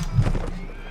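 A horse neighs close up in the Mount & Blade: Warband video game, a single loud whinny in a desert setting, with hoof clatter and game sounds under it.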